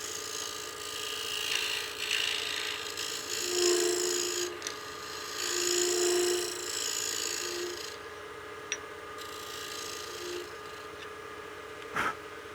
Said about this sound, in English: I'm going to use my skew just to smooth the curve out